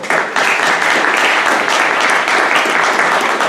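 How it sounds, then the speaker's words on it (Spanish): Dense, steady applause from an audience at a general medical session on prenatal diagnosis of Down syndrome, loud and continuous throughout with no voices over it. "Démosle un aplauso, por favor."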